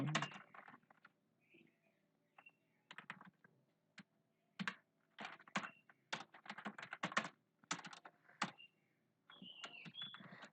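Computer keyboard typing with Avro Bangla software comes in irregular bursts of quick, close clicks separated by short pauses, fairly quiet and without speech.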